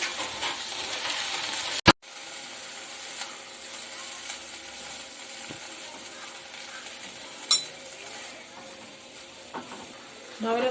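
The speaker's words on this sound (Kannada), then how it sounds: "ಪುದೀನವನ್ನು ಹುರ್ಕೊಳ್ಬೇಕು" Fresh mint leaves (pudina) fry in a pan for chutney, giving a steady close sizzle with soft stirring scrapes and one sharp clack early on.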